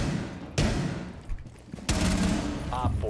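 Rapid bursts of submachine gun fire in a video game, two loud sustained volleys with short gaps, over game effects and faint talk.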